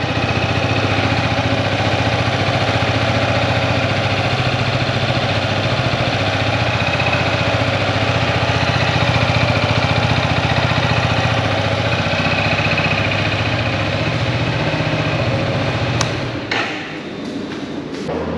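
A 2025 Yamaha Xmax 250 scooter, single-cylinder and liquid-cooled, idles steadily and close up with a soft, bassy hum for most of the stretch, then drops off near the end with a few clicks.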